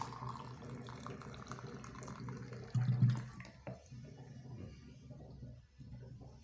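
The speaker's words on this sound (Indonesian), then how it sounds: "Nanti kita siram dengan air panas yang mendidih." Boiling water is poured from a kettle over dried bidara leaves in a glass to make tea, a soft, steady splashing pour that swells midway and then tapers off, with no talking.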